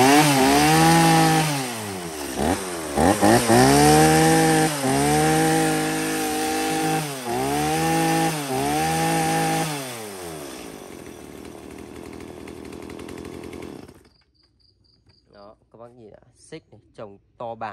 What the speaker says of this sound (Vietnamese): Hàng này dòng cưa bãi Đức các bác nhá